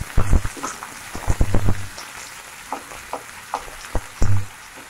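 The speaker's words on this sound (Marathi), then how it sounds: "कांदा थोडासा आणि लसूण असं हलवून घ्यायचं" Onion and garlic are tossed in a hot pan for veg fried rice, giving bursts of sizzle and clattering stir strokes in irregular clusters, near and moderately loud.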